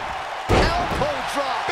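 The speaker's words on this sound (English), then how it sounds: "Elbow drop, big time." A wrestler's elbow drop crashes onto an opponent and the ring mat with one sharp, heavy slam, followed by an excited commentator talking over the arena.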